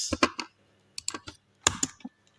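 Short bursts of key clicks on a computer keyboard as a search query is typed, two quick clusters of taps separated by a brief pause, close and alone.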